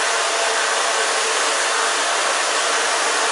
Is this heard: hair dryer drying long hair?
yes